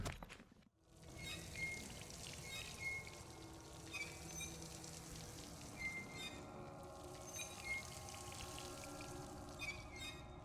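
Magical Spirit Water ability in the game Dishonored, a steady watery pouring and splashing rush that runs continuously at low level, with faint chiming accents scattered over it and no talk.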